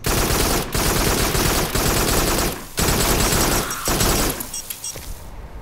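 Rapid automatic gunfire from a gun in the VR shooter Farpoint, loud sustained bursts with brief gaps between them, then tapering off near the end.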